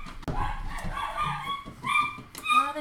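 Several dogs bark and yip indoors in short, uneven bursts, fairly close and moderately loud, with whining tones between the barks.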